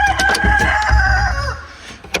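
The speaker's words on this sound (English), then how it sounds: "I'll show you the chickens" Backyard chickens cluck close by while a rooster crows loudly over them, with a short sharp squawk near the end.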